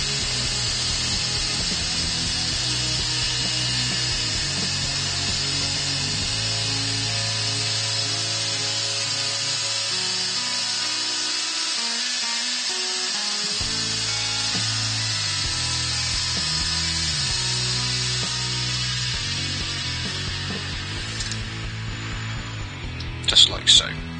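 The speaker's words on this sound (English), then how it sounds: "I can speed the lathe up. Speed the lathe up and give it a good buffing." A wood lathe runs at high speed while a wand handle finished with Hampshire Sheen is buffed, giving a steady, loud whirring hum with shifting low tones throughout and brief clattering knocks right at the end.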